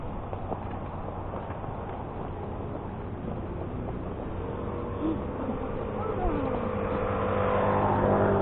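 A motorcycle passes on a road in Nuvali, Santa Rosa, Laguna, its engine whine rising and getting louder toward the end over steady traffic noise.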